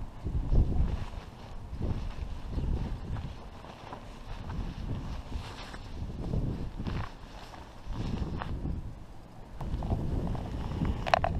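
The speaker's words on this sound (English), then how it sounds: "That's really windy." Gusty wind buffets the microphone in rumbling bursts that rise and fall every couple of seconds, with no voices, at a lakeside beach at Tanana Lakes, Fairbanks, Alaska.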